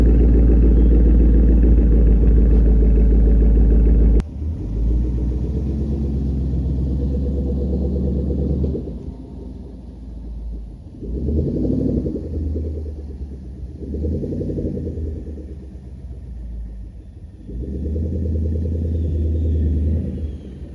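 A Mustang engine rumbles at idle nearby, with a deep low throb that drops after a sharp cutoff early on and then swells in a few repeated revs before settling back to a steady idle.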